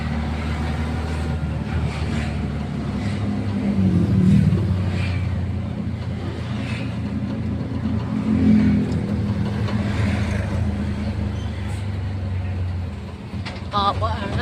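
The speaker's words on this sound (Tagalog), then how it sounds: "Traffic." Road traffic at a busy junction in Cainta, Rizal: a steady low engine drone with vehicles revving and passing nearby, and people talking over it.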